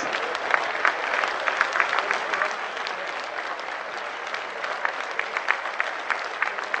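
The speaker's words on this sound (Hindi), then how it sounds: "जोरदार तालियों से स्वागत करेंगे।" A crowd at a Holi gathering and poetry event stands and applauds a minister, dense sustained clapping that stays steady and fairly loud throughout.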